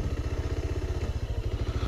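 A motorcycle rides uphill toward Madwarani temple near Korba, Chhattisgarh, its engine thumping in a fast, steady pulsing rhythm, loud and close, with no voices over it.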